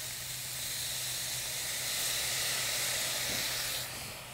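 Soy sauce hits a hot pan and sizzles in a continuous, fairly loud hiss with a faint low hum beneath, tapering off at the end.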